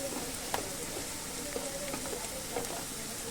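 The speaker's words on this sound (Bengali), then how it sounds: "এবার ভালো করে নাড়িয়ে চাড়িয়ে ভেজে নিচ্ছি" Turmeric, chilli powder and cumin sizzle steadily in hot oil in a pan for a traditional elephant foot yam and fish curry, a dense continuous crackle with a few sharp clinks from stirring, close and moderately loud, no talking.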